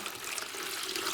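Liquid potions pour into a container in a continuous, fairly loud gushing splash that holds steady throughout, with no talk.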